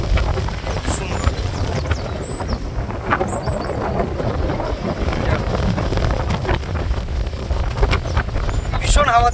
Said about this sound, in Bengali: ভীষণ হাওয়া দিচ্ছে, ভীষণ